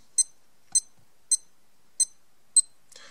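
A Seiko Arnie SNJ025 Prospex digital watch beeps five times in a steady rhythm, short high-pitched bleeps about half a second apart, close and clear with no talking.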